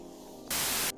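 A spray paint can hisses in the SuchArt painting game, one steady loud burst of about half a second that cuts off abruptly over a faint hum.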